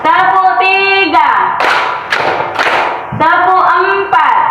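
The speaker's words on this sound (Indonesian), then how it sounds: "Tepuk 1, tepuk 2, tepuk 3," A classroom group claps in a counting game of up to five claps, with a few sharp broadband claps between stretches of chanted voices, all close and loud.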